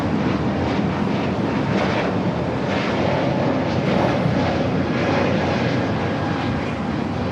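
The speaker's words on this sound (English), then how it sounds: "This is Spirit Airlines 2592 taking off to Las Vegas on the A321neo" A Spirit Airlines Airbus A321neo roars through its takeoff at Los Angeles LAX, a loud, steady broadband jet rumble with wind buffeting the microphone throughout.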